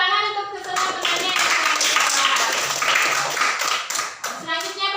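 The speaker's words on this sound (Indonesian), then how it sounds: "tepuk tangan untuk kesemua temannya" Children in a classroom applaud their classmates, a lively burst of many small hands clapping close by for several seconds, with a teacher's voice heard at the start and end.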